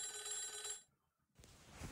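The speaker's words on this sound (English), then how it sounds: "Oh, there was a phone call." A telephone ringing in the horror game Homicipher, a bright electronic ring that cuts off into brief silence before a softer noisy sound resumes, close and clear with no talking.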